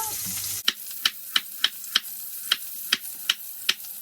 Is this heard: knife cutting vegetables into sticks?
yes